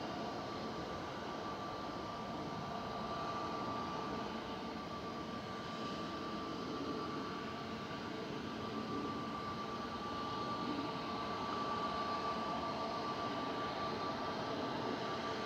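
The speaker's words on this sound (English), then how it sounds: "Swiss coming in from Zurich here with flight 390, HBJCL operating this with an A220-300" A Swiss Airbus A220-300 arriving from Zurich at Manchester Airport produces a faint, distant, even engine hum with a thin steady whine running through it.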